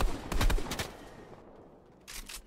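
Gunfire from a weapon in a video game: a rapid burst of loud, sharp shots, then a fading tail, and a second short volley of shots at the end.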